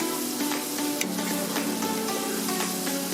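Pork intestines for dinuguan frying in a hot pan, a continuous loud sizzle with scraping stirring strokes at a steady pace, close and without talk.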